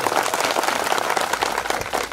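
A crowd at a political rally breaks into applause, dense and continuous clapping filling the space at close range for the whole moment.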